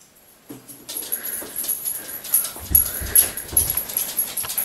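A small dog named Simba barks and whimpers close by, a run of short sharp yaps in irregular bursts that grow busier toward the end.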